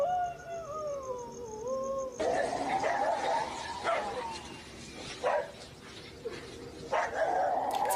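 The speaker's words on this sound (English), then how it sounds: "the aggressive barking of several dogs" Several dogs bark and yelp harshly in overlapping bursts, following a wavering wail, with a steady noisy background.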